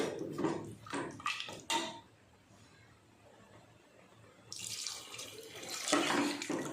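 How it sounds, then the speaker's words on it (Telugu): Water poured into a pot of mutton curry, splashing in bursts at the start, pausing, then running again more strongly toward the end. "వాటర్ పోసేసుకుంటాను."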